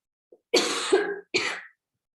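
Two harsh coughs, the first longer with a rough catch, the second short, close and fairly loud with near silence around them.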